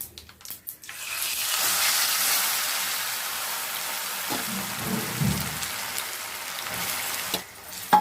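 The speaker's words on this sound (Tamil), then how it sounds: "மாங்காய் வந்து நல்லா எண்ணெயில் வதக்கி விட்டாச்சுங்க." Steady, close sizzling of grated raw mango frying in hot oil with mustard seeds for mango pickle, a continuous crackle with occasional scraping stir sounds and no talking.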